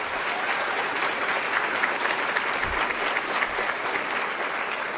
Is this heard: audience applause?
yes